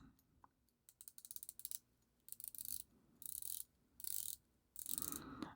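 Core Timepieces Seven Sins automatic watch with its rotating bezel turned in several bursts of fast, close ratcheting clicks separated by brief pauses, quiet and alone with no talking.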